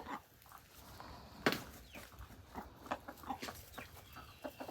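Chickens on a renovated abandoned homestead, including a black hen, cluck in scattered short bursts at moderate distance, with soft outdoor background noise and no talk.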